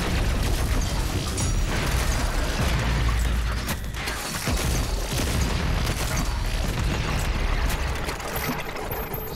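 Explosions and combat in the video game DOOM Eternal, a dense, continuous loud roar of blasts and booms with heavy low rumble filling the whole stretch, with no clear pauses between hits.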